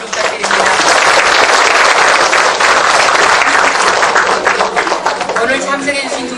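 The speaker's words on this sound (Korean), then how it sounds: "한창호 작가님께 다시 한번 뜨거운 박수를 부탁드립니다" Loud, sustained applause from an audience for author Han Chang-ho, a dense continuous wash of clapping filling the room throughout and easing slightly toward the end.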